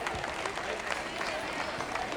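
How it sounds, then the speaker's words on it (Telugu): An audience claps throughout a children's day school performance, a dense, continuous patter of many hands that stays even and fairly loud from start to finish. "Audience, please encourage them with your claps."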